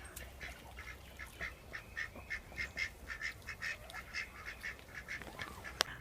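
Ducks quack in a rapid, rhythmic series of honking calls from a small flock that keeps going for several seconds. The calls are moderately faint and come over a low outdoor background.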